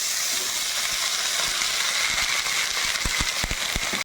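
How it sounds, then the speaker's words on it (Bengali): Ridge gourd frying in hot oil in a wok, a steady loud hiss and sizzle filling the whole stretch, with a few faint clicks and no voices. "তো আগে ঝিঙেগুলো একটু দিয়ে দেবো, দিয়ে একটু হালকা ভেজে নেব।"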